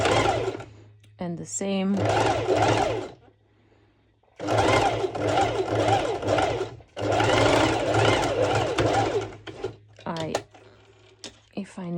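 A sewing machine stitches a sporty top close to the fabric edge in several loud bursts of rapid running, separated by pauses, with someone talking between runs.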